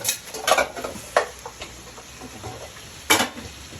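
A spoon stirring soup in a cooking pot, scattered scrapes and clinks against the pot, a few louder knocks, over a faint sizzling background.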